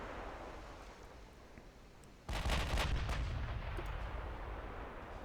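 Heavy 16-inch naval guns in the game Ultimate Admiral: Dreadnoughts fire in a single loud, booming salvo after a quiet stretch of low ambient rumble, the blast decaying into a long rolling rumble.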